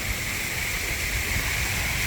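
Water features in a park near Hongik University in Hongdae, Seoul, give off a steady, even rush of splashing water that holds constant without pause.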